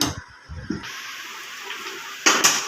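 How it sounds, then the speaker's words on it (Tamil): A steady sizzling hiss of a pot of tiffin sambar, made without dal, bubbling on the stove, with a few soft clinks near the start and a louder burst of sizzle toward the end. "குழம்பு ஒரு டூ மினிட்ஸ் கொதிக்கிட்டு இருங்க"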